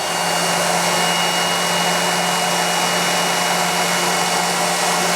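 The small electric motor of a Wolf tool post grinder, rated at 8,000 rpm, runs steadily with a high, even whine and a constant hum, unbroken from start to finish at close range.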